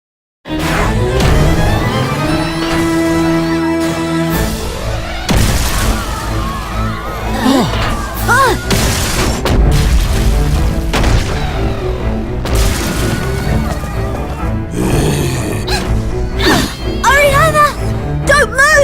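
Explosions tear through a town in a Professor Layton game, a run of loud booms and bangs layered over a dense game score, with a voice briefly speaking.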